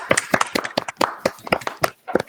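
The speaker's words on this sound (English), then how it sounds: "I guess a polite round of applause" A small group at an online all-hands meeting gives a polite round of applause, about a dozen distinct loud claps with uneven rhythm, close and dry, over about two seconds.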